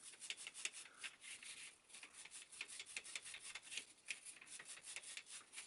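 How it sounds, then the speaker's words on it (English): A wire brush scrubs the threaded bottom bracket shell of a very old bike, a continuous fast scratchy rasp with rapid back-and-forth strokes, close and steady throughout with no talking. "So I've been over both sides of the bottom bracket shell using the wire brush"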